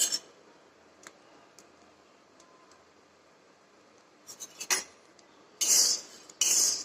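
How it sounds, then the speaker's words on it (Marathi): A spatula works through wheat, chickpea and lentil flour dry-roasting in a pan. Mostly quiet with a few faint ticks, then two sharp, louder bursts of scraping against the metal near the end. "हे चांगले खमंग भाजायचे लाल खमंग भाजायचे"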